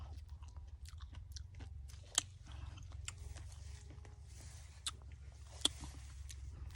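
Chewing on freshly picked cherries at a pick-your-own orchard, soft wet crunches and squishes close to the mouth, with a few sharper bites standing out over a steady low outdoor rumble.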